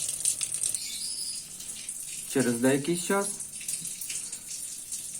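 Water runs from a hot-water tap as an Elexia boiler's heating system is drained, a steady bright hiss throughout with someone talking over it midway.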